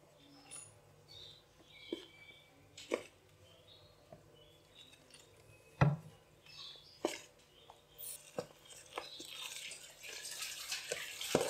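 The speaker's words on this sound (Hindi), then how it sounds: "और इसमें थोड़ा थोड़ा करके पानी डालेंगे।" Water trickles little by little into pakora batter in a bowl, with soft irregular splashes, drips and stirring clicks that come close and quiet, and a denser wet swish near the end.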